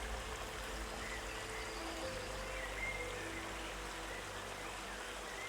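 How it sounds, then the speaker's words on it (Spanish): Steady rushing water from the Erawan waterfalls in Kanchanaburi, Thailand, a dense, continuous roar of falling and flowing water heard close by with no break for the whole stretch. "En la provincia de Kanchanaburi, las cascadas de Erawan crean uno de los espectáculos naturales más bellos de Tailandia"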